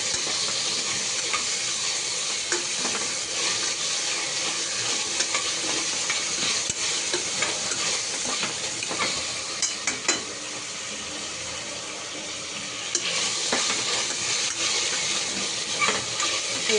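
Onion and tomato stir-fried in a pan for a peas-and-potato pulao, a long stretch of continuous sizzling broken by frequent scraping and clinking spatula strokes, close and steady, with no talk.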